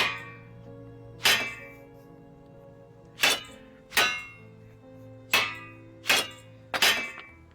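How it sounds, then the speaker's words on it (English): A tiny hammer strikes metal on an anvil in a VR fantasy game, ringing out in six sharp, bright clanks spaced about a second apart, each with a metallic ring that decays before the next blow, heard alone. "Now take this comically tiny hammer and whack it until all the wrinkles are out"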